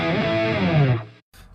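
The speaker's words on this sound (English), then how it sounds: "I can solo the guitar track." Soloed distorted electric guitar track from a home recording, a thick, fuzzy sustained chord ringing loud and close for about a second before cutting off abruptly, followed by a short quieter burst.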